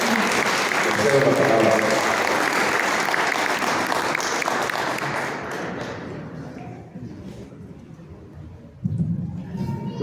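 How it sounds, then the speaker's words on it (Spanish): An audience at a book presentation on social movements and the left in Mexico gives its guests loud, sustained applause that gradually thins and fades, and a voice speaks briefly near the end. "Una vez más, un fuerte aplauso para nuestros invitados."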